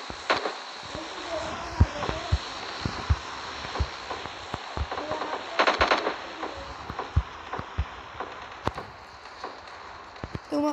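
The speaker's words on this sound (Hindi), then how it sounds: "तुमको कोई गोलियां मार रहे हैं?" Rapid bursts of PUBG Mobile Lite gunfire crackle in irregular volleys, mixed with footstep-like taps and a constant background drone, with voices talking over them.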